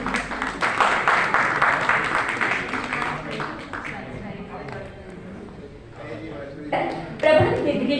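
Audience applause at a national honour award ceremony, a dense, sustained clatter of many hands that thins out midway as an amplified voice speaks over the hall, then swells again briefly near the end.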